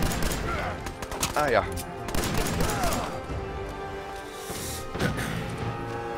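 Fallout 4 gunfire: a rapid volley of loud shots and thuds, then scattered single bangs, with someone talking excitedly over the shooting.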